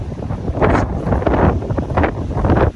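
Strong wind gusts roar and buffet the microphone in loud rushing bursts on a Pacific Ocean beach, with no voices.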